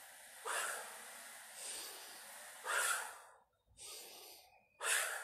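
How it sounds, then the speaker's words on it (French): Deep breaths during a sunny outdoor morning workout for muscles and joints: several long, airy inhales and exhales at a slow, steady pace, close and clear, with no talking. "Soufflez bien. Soufflez. Inspirez."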